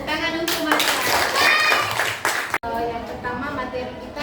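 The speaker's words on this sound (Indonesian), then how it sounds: "Tepuk tangan untuk Mas." Classroom clapping for a student who has just answered about geometric solids, a short burst of hand claps mixed with children's voices, steady and close, ending abruptly before a teacher resumes talking.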